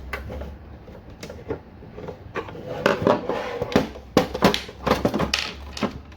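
Scratchy twisting and clicking from a stubborn screw being worked loose on an Atari 2600 console, a run of irregular close metallic creaks and taps that grow busier toward the end.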